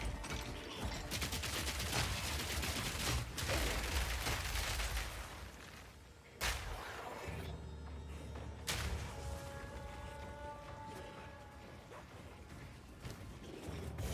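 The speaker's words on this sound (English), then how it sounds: "it just kind of keeps exploding for 20 minutes when there's 700 grenades on the ground" Hundreds of grenades in the video game Path of Exile 2 go off at once, a dense, continuous crackle of explosions with sharper bangs standing out. The sound stays faint and distant, with mechanical clicking mixed in and no voices.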